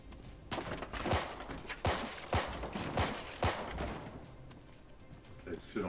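Pistol fire from the shooter game Firewall Ultra: about half a dozen sharp shots spaced irregularly, each followed by a short tail, over constant game background noise.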